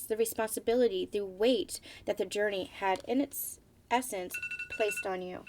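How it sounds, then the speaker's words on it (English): A phone alarm chimes steadily as a repeating tone beneath a woman's continuous speech during a spiritual energy reading, faint and partly masked by her talking. "Okay, sorry, that was my alarm."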